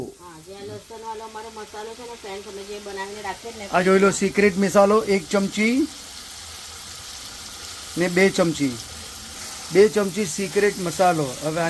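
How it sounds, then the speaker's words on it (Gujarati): Potatoes fry with turmeric and spices in a pan, giving a soft steady hiss of sizzling beneath someone talking in bursts. "ફ્રાય કરવા દેવાનું છે અને એકદમ શેકવા દેવાનો છે"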